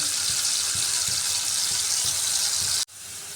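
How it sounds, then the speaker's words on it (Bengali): Potatoes frying in oil until reddish-brown make a loud, dense, continuous sizzle with faint soft bumps underneath, then cut off abruptly just before the end. "আলুগুলো একটু লাল লাল করে ভেজে নিচ্ছি"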